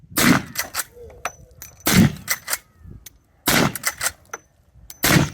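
Several sharp gunshots from big-bore guns firing cast bullets ring out at irregular intervals, each loud and followed by a short reverberant tail.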